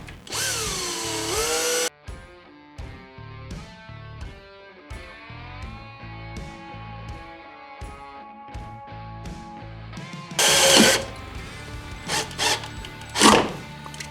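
A power drill bores holes through the tunnel and inner bumper of a 2020 Ski-Doo XRS 900 Ace Turbo snowmobile, with a loud whining burst at the start and two shorter bursts later, separated by quieter clattering handling noise.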